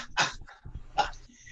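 A dog sprayed by a skunk whimpers outdoors, picked up by an outdoor security camera: two short, high whining cries a little under a second apart over low background rumble.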